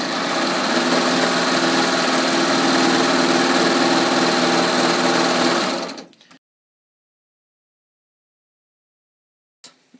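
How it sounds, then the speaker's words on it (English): Serger machine sewing strips of knit fabric runs in a loud, continuous close-up whir, then winds down and stops, leaving silence broken by a faint click near the end. "I just finished and serge it right off"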